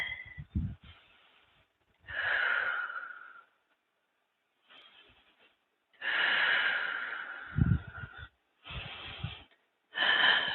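Slow, deep breaths while holding a yoga posture, long airy inhales and exhales with soft nasal snorts between them, close and quiet, separated by near-silent pauses.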